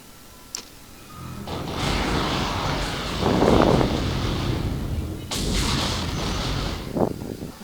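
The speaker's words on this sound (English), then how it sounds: "That's the Vulcan engaging" A Vulcan anti-aircraft gun fires in a military video game, long roaring bursts of rapid fire that swell and fade twice over several seconds, with a short sharp crack near the start.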